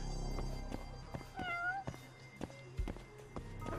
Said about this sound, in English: What meowing coming from?